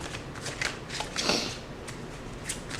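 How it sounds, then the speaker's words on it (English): Tarot cards being shuffled and pulled from the deck, giving a close, continuous papery riffle and slide with a brief louder flurry in the middle, no voices. "Let me pull a couple more cards."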